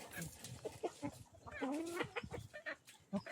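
A person imitates a chicken clucking with a series of short throaty bursts and a rising squawk, fairly faint and close, mixed with other voices in a casual indoor setting.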